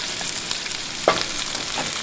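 Grits bubbling and sizzling softly in a pot on a tailgate cooking setup, a steady low crackle with one small pop partway through and no talk.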